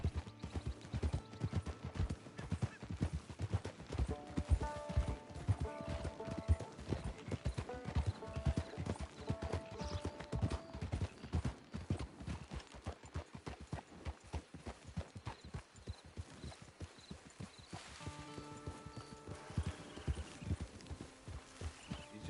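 Horse hooves clip-clop in a steady rapid rhythm while riding in Red Dead Redemption 2, loud and close, with game music and a brief voice underneath.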